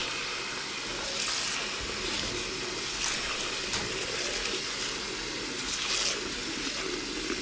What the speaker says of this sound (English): And basically all you do is you fill it with water.